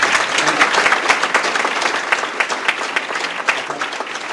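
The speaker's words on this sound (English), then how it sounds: "Folks, how about a round of applause?" A conference audience gives sustained applause for speaker Nick Redfern, many hands clapping densely and evenly with sharp individual claps popping out, steady throughout.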